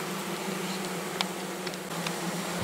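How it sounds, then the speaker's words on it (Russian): Honeybees swarm around an open beehive frame in an apiary, a steady, dense, close buzzing drone with a few brief louder passes of individual bees. "Пчела спокойная."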